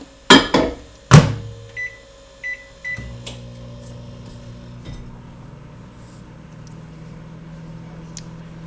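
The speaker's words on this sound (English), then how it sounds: "You're going to put it back in the microwave for another 30 seconds" A microwave oven opens and closes with a few sharp clunks, beeps several times as it is set, then hums steadily while running.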